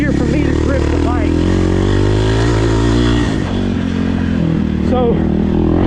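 A 2024 Kawasaki KLX300R dirt bike runs loud and close on a turn track, its engine droning and revving with clattering and scraping, while a voice talks over it.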